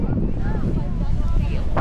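Wind on a beach in Ilocos buffets the microphone with a continuous low rumble, while people talk over it the whole time.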